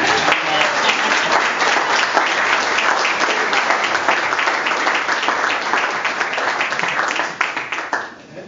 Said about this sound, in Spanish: yo pido un fuerte aplauso para ella